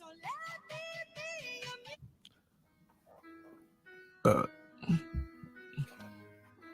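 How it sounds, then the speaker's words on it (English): A burp contributed by a TikTok viewer, used as part of a song intro, comes as a loud, low, brief belch after some musical tones, followed by a few short thumps. "your burp is part of my intro now for this song"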